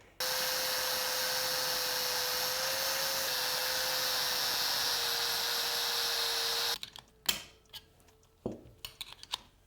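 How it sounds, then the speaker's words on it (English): A rotary grinder wears down the buttons on a Honda CRF450R clutch plate in a steady, close, high-pitched whine lasting several seconds, followed by a few metallic clanks and knocks. "we'll grind these buttons down a little bit, pop this plate up"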